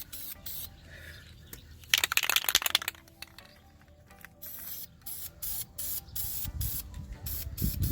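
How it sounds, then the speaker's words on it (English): Heavy second coat of spray paint going onto Smart car brake calipers: repeated hissing aerosol bursts, close and fairly loud, with short pauses between passes and a rattling can. "Now we're going to do the second coat. And this time we're going to do the heavy coat."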